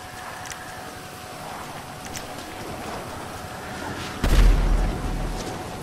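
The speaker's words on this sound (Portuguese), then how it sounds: "É ele que tá atirando em mim, velho." Gunfire in the video game GTA V Online, a steady low rumble of distant shots that builds to a loud, heavy burst near the end, with no talk.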